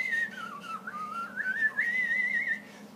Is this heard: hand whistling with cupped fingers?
yes